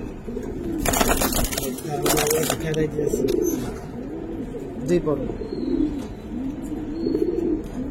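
Young Giribaz pigeons in a loft cooing in repeated soft, low rolling calls, close by, continuing under someone talking over them.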